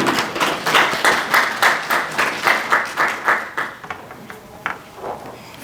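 An audience claps to welcome a history lecturer onto the stage, a dense burst of applause with a steady clapping rhythm that tapers off into a few scattered claps.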